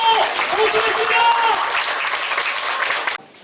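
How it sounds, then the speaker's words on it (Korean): Audience applause welcomes the speaker at an astronomy humanities concert lecture, a dense, loud wash of clapping that fills most of the clip before cutting off abruptly near the end, with a voice briefly heard over it at the start. "큰 박수로 모시겠습니다"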